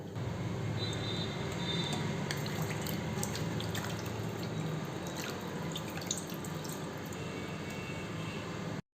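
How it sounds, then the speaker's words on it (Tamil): Clean water is poured over cleaned sardines in a kitchen, a steady splashing stream that runs continuously at close range and then cuts off abruptly at the end. "ஒரு இடம் க்ளீன் தண்ணி ஊற்றி க்ளீன் பண்ணி எடுத்துக்கலாம்"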